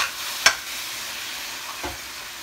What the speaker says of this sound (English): while our meat is cooking